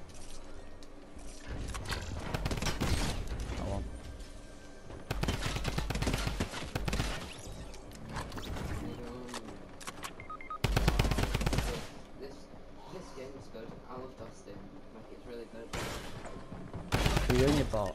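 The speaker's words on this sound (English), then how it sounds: "Is that a blue drum gun? It is." Rapid automatic gunfire from a blue drum gun in the Fortnite video game, crackling in repeated bursts with short gaps, layered over game sounds and people talking throughout.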